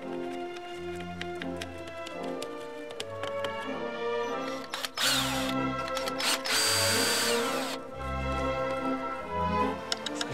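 Power drill driving a screw into a small DIY Arduino Halloween prop controller, a loud whirring burst over about five seconds with a brief pause, set against background music.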